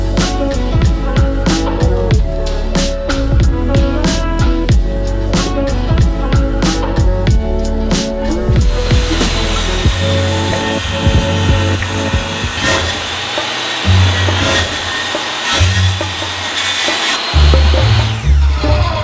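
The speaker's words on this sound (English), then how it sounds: "cut this down to a more manageable length on the miter saw first, so it'd be easier to push through the table saw" A table saw rips through a long wooden board nearby with a loud, sustained whine and grinding cut. The motor pitch shifts partway through and the whine winds down near the end.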